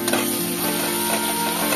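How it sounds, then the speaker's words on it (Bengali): Grated ginger fries in a pan for a Bengali home recipe, giving a continuous close, bright sizzle with faint stirring and no voices. "আদাটা একটু ভাজা ভাজা করবো।"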